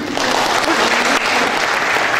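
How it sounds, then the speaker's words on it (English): Loud, dense applause from a crowd fills the whole moment, steady and close, with no voices. "we should have the applause for you, really"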